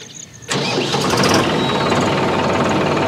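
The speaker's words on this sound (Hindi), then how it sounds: "चलिए ट्रैक्टर का आवाज़ सुनाता हूँ मैं आपको कि ट्रैक्टर आवाज़ कितना करती है" A Solis 4215 43HP tractor with a 10+5 gearbox cranks into life after a short quiet moment, then settles into a steady, close, loud diesel clatter.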